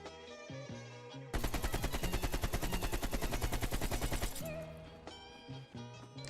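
A long, steady burst of automatic AK-47 fire at long range in Call of Duty Black Ops Cold War: rapid, evenly spaced loud shots for about three seconds, with game music before and after.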